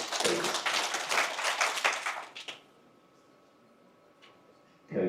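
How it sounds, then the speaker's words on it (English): Audience applause with dense clapping at a pension scheme member education event, loud for about two and a half seconds, then fading into quiet room tone before a brief burst returns at the end. "A round of applause as she comes to the stage."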